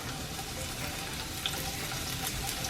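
Garlic and onion slices frying in canola oil for refried beans, a steady close sizzle and crackle running the whole time with a few brief pops.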